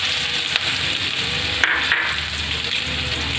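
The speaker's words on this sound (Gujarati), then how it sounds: "બસ કાંદા નાખીશું" Onions frying in oil with cumin, asafoetida and garlic for Punjabi khichdi, a dense, even sizzle close by with a couple of brief utensil knocks and no speech.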